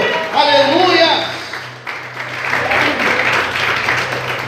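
A church congregation applauds during a Portuguese-language sermon, clapping building after a spoken exclamation and continuing as a moderately loud wash of hands with a low hum underneath.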